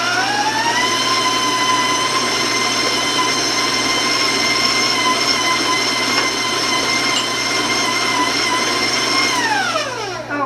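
An electric mixer beats fudge marshmallow cookie dough at high speed, giving a loud, steady, whining motor drone with a tonal hum that holds for about ten seconds and then falls away as the mixer slows at the end.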